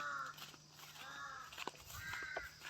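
Crows caw repeatedly outdoors near a tree, several harsh calls spread across the stretch with distant birds and faint ambient noise underneath; no one speaks.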